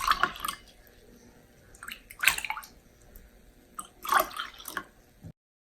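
Thick homemade yogurt is poured into cups, making soft wet glugs and drips in a few irregular bursts, close by with quiet gaps between.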